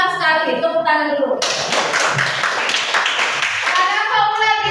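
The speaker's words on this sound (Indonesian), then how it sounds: "Ya, pintar sekali. Tepuk tangan dulu." A class of children claps hands together in a classroom, a dense burst of clapping for a few seconds. A teacher's voice and children's voices are heard before and after it.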